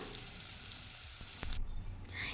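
Ginger, garlic, onion, curry leaves and green chilli sauté in a pan for a Kerala-style sardine curry, giving a steady soft sizzle with a faint clink of stirring. There is no talk.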